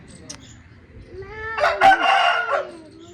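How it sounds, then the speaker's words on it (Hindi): A single rooster crows loudly and close by, a rising then drawn-out cock-a-doodle-doo after a brief soft cluck. "अच्छा अच्छा वो मुर्गा है"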